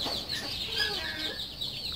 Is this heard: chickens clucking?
yes